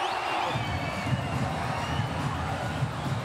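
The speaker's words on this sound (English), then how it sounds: "The big cheer is because the crowd on the big screen saw the spike." Stadium crowd at a Sri Lanka versus Zimbabwe T20 cricket match, a broad swelling roar of cheering and whoops heard from a distance, sustained throughout.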